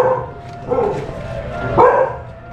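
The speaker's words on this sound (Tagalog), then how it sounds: "laki ng aso." A big dog barks a few times in short bursts at moderate distance, over a steady background murmur.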